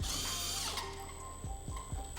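Power drill driving screws through plaster into a wall, a brief whirring spin followed by several quick ratcheting clicks, close and fairly quiet.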